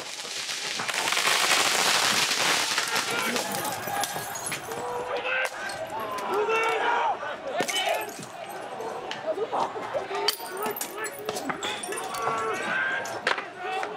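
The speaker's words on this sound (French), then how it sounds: "Les Black Blocs ripostent, notamment avec un mortier de feu d'artifice." Firework mortar blasts fired during a riot clash with police, sharp cracks and pops scattered irregularly over a loud, noisy crowd and street din.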